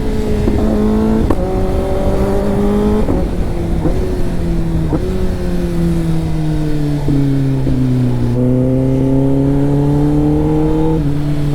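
A Kawasaki ZX10R superbike's engine revs loudly and up close, rising and falling through repeated throttle blips over a steady idle, with no talking over it.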